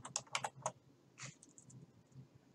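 Quick light keystrokes on a computer keyboard, a rapid burst of four clicks, then a few softer, more scattered taps, quiet and close with no talking.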